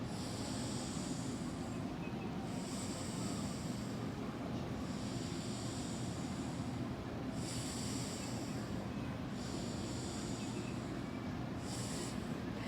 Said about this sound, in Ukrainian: починаємо дихати тільки через праву ноздрю глибоким повільним диханням